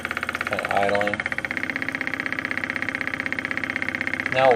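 A Lynx Joule motor generator idles with a fast, even mechanical pulsing and a steady tonal whine, close and moderately quiet, with brief voice-like sounds at the start and end.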